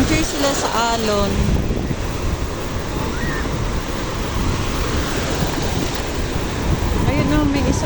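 Ocean waves break at a surf beach in La Union, a loud continuous roar of surf with wind buffeting the microphone, and voices talking briefly at the start and end.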